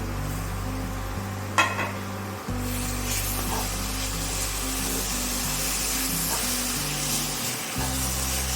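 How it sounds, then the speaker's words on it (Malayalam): Chopped ripe tomatoes hiss and sizzle in browning masala in a pan, a steady close frying crackle with a sharp burst as they go in, over a low hum. "ഇത് ഏകദേശം ഒരു ബ്രൗൺ കളറാവുമ്പോൾ അതിലേക്ക് 3 തക്കാളി നുറുക്കി വിടാം."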